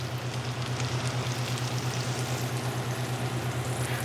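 Cheese-topped tortillas fry in a pan for quesadilla-style tacos with a steady, even sizzle, a low constant hum running underneath.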